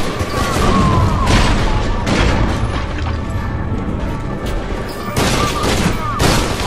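Rapid gunfire in the first-person shooter FEAR 2, dense overlapping shots and booms running continuously and loudly throughout, with occasional bursts of louder impacts.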